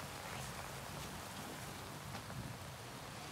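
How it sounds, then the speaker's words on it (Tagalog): Heavy rain pours steadily and loudly, a dense continuous hiss of drops on surfaces with no voices present. "Bago gumabi, inabutan kami ng malakas na ulan."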